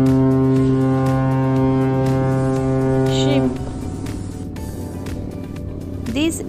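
A loud, deep ship horn sounds one long, sustained blast that cuts off partway through, leaving lower rumbling background noise and a few brief higher tones.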